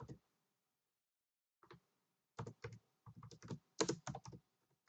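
Keys on a computer keyboard are tapped close up in a quiet room while someone enters a WordPress plugin search: a lone click, then a quick irregular run of crisp keystrokes.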